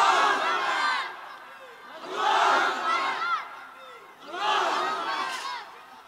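A large crowd at a religious gathering (mahfil) chants the takbir "Allahu Akbar" loudly in unison. Three strong swelling waves of massed voices rise and fall in steady rhythm, close and full.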